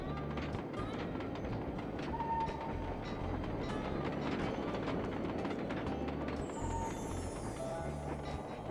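A train rolls along rails in the video game Sly Cooper 2: Band of Thieves, with a steady, continuous rumble and repeating clatter from the wheels over about nine seconds, joined by faint mechanical tones and a rising whine near the end.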